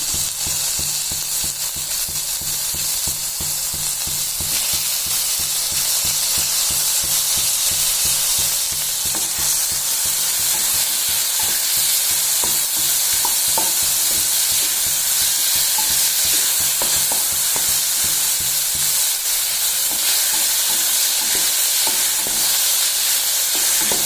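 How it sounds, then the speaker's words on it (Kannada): Tomato frying in a pan with reddened onion for a capsicum stir-fry, a continuous close sizzle broken by a long run of rhythmic spatula stirring clicks and scrapes, with no speech. "ಸೊ ಈಗ ಈರುಳ್ಳಿ ಕೆಂಪಾಗಿದೆ, ಇದಕ್ಕೆ ಟೊಮೆಟೊ ಹಾಕೋತಿದ್ದೀನಿ."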